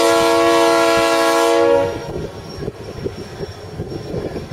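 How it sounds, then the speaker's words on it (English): ATSF 92 locomotive at the Illinois Railway Museum in Union, Illinois, blasts a loud multi-chime horn for nearly two seconds, then rumbles past up close pulling freight cars, with clanking wheels and a steady rolling roar. "Ray's going to blow the horns and pass in review."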